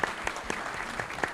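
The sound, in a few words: applause for the event team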